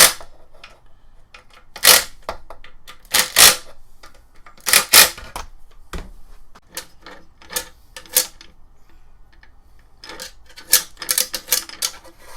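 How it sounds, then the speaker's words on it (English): Screws being tightened on a string trimmer attachment during a repair: sharp, close clicks and ratcheting bursts in uneven clusters, some loud, separated by short quiet gaps, with no talking. "Now I can tighten all these down."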